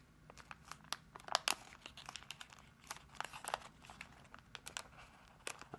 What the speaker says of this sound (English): I'm just going to fold this line onto itself right at our mark